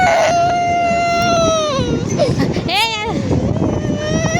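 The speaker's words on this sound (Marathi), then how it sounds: "आला की रडतो कशाला रडतो" A young child cries and wails loudly at a busy seaside beach, sobbing in rising and falling bursts, with wind buffeting the microphone and adults talking nearby.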